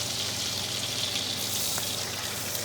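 Steak sizzling steadily in a hot pan, a dense continuous hiss of frying with faint crackles throughout, close and fairly loud, with no voices.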